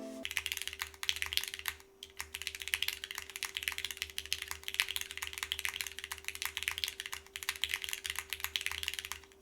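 Fast, steady typing on a Boomerang mechanical keyboard with an aluminum plate, with dense clacking keystrokes close by and a faint constant hum underneath.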